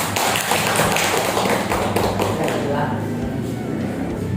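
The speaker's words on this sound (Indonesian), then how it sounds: "Kita kasih aplaus ya untuk kelompok As-Salam." Dense, continuous clapping from a classroom applauding a presenting student group, close and loud, lasting several seconds and thinning slightly toward the end.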